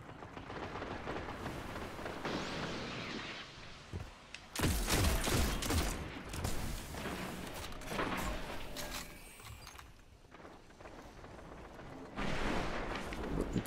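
Destiny multiplayer combat: grenade blasts and bursts of gunfire, several loud booming explosions and rattling shots in irregular clusters, with quieter gaps between.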